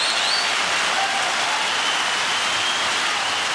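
A long clapping sound effect played during a podcast, a steady dense wash of claps holding evenly for the whole stretch with no voices over it.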